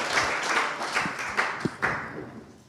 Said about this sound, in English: Literally need to have applause for Meri.